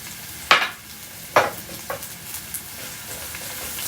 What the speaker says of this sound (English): So you start with some olive oil. We're going to saute some onions.